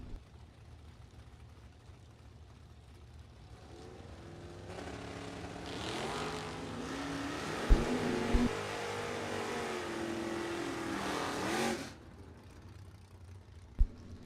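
Drag race launch of a 1957 Chevy Bel Air and a competing car at a bracket racing event, engines swelling into a loud roaring pass that peaks with sharp pops, then cuts off abruptly, heard from trackside without talk.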